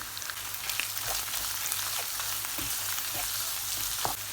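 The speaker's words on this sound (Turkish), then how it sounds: "1 dakika kadar salçanın kavrulmasını sağladık" Pepper paste fries in a pan with a steady sizzle, occasional louder crackles and spits over a continuous hiss.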